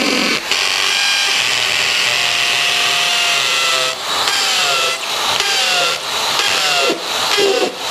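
A loud, steady power drill grinds continuously, boring holes into a basement floor, with brief dips and restarts every second or so as each hole is bored.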